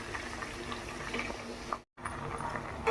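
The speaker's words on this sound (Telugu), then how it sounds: "అవి నీళ్ళు పోసి ఉడకబెట్టేసుకుందాం." Potatoes boil in water in a pot, giving a steady, soft bubbling and hissing with a brief gap before the bubbling resumes.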